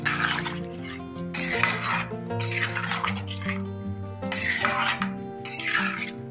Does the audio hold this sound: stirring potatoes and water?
yes